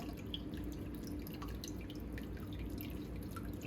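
Elderberry juice, cooked with ginger, cinnamon and cloves, drips and trickles steadily through a strainer as the mixture is pressed, with quiet, close, continuous liquid patter.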